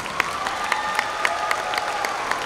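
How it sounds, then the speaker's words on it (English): Audience applause at a high school commencement ceremony, a sustained crowd clapping with a few sharper individual claps standing out and faint cheering underneath, steady from start to finish. "let's give them a round of applause."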